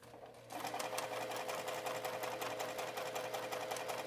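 Sewing machine stitching with its thread tension set too high, a fast steady mechanical whirr and needle clatter that starts abruptly and runs continuously, close and alone.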